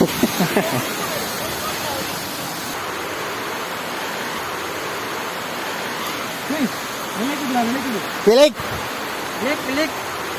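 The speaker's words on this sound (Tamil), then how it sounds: "கைஸ் என்னன்னா இது வந்து வாட்டர் ஃபால்ஸோட ஸ்டார்டிங் தான்." Near the top of a hidden waterfall in Ooty, a steady broadband rush of falling water fills the scene, with people talking intermittently over it.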